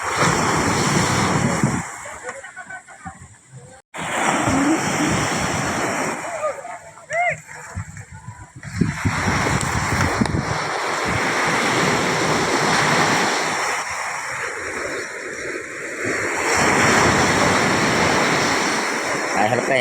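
Big ocean waves surge around small boats at sea, a loud continuous wash and surf roar with sloshing splashes and heavy wind buffeting the microphone, while people talk over it.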